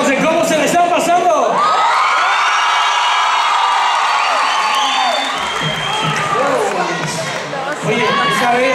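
A crowd of children and adults at a Just Funk 2012 competition shouts and cheers together in a loud, sustained roar of overlapping voices and whoops that swells, dips briefly, then rises again.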